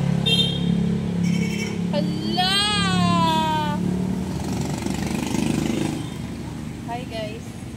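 A fairly new Honda Beat scooter engine idles roughly and drags, with an uneven, sputtering running note throughout. People speak over it, and a voice cries out partway through.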